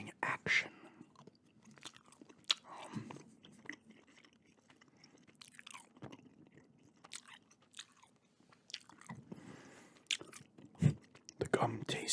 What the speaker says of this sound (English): I'll start up this gum chewing action.